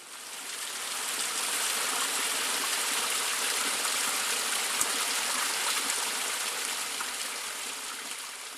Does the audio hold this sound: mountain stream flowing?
yes